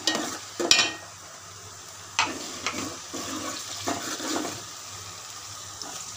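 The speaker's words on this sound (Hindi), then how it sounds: "अदरक और ये लहसुन जो मैंने काट रखा है ये डाल देती हूँ, और इसे अच्छी तरह से भून लूँगी" Ginger and garlic fry in hot oil with a soft sizzle while a utensil scrapes and clinks against the pan in a few sharp bursts.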